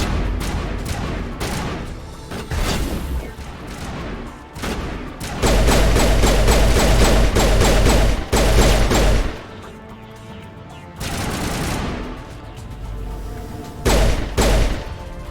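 Pistol fire in the video game Mass Effect Legendary Edition, on Insanity difficulty: loud bursts of rapid shots in several clustered volleys with short pauses between them.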